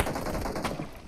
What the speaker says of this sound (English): we can see a pistol fight